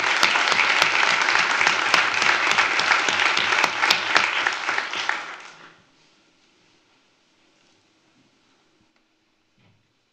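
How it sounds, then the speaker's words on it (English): School board meeting audience applauding students and a volleyball coach, several seconds of lively clapping that fades out abruptly into near silence. "One more round of applause for everybody."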